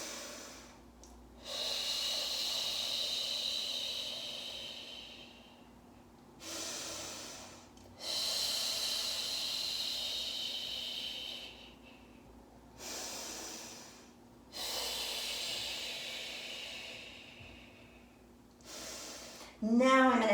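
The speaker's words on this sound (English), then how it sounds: "2 breaths down. That's a lot of breathing." Deep, drawn-out breaths during a Pilates mat workout: several long hissing exhales and inhales in a steady rhythm, close and fairly loud, separated by brief pauses, with a short quick breath at the end.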